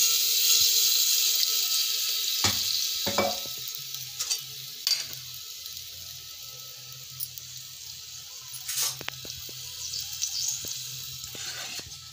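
Spices for tempering a lotus stem curry sizzle faintly in oil, with scattered clinks and stirring taps of a utensil and a running-water rush, quiet and intermittent with no voices.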